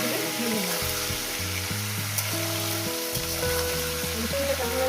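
Brinjal and green chilli fry in hot oil with a steady, even sizzle that runs the whole time, and a tonal melody plays underneath.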